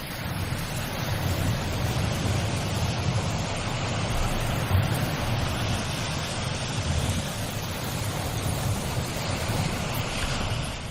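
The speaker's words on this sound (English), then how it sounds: "The therapeutic power of the sea, Matt, is that right?" Sea waves wash steadily onto the shore, a continuous broad roar of surf with wind noise, loud and close with no talking.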